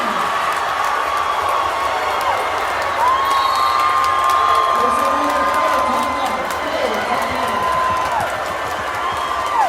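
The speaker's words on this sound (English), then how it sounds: "listen to this crowd, loving every minute of it" A high school basketball crowd in a gym roars with continuous loud cheering and whoops, with whistle-like tones and a play-by-play voice faintly underneath.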